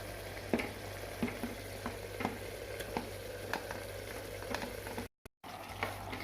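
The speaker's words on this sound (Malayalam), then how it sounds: "അപ്പോൾ ചിക്കൻ ഇട്ട് കൊടുത്തു." Chicken goes into a pan of tomato puree and sizzles steadily and quietly, with a soft continuous frying hiss broken by occasional taps and stirring clinks and a brief dropout near the end.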